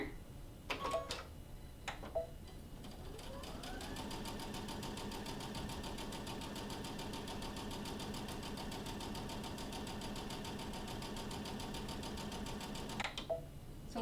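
Sewing machine stitching a ScanNCut carrot Easter bag: a steady, rapid mechanical run of needle strokes holds for about nine seconds, framed by a few clicks and handling knocks before and after.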